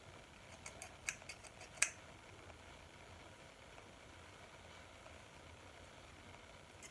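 Scissors snip through hair close by in a quick handful of crisp cuts, bunched in the first two seconds, then only faint background noise.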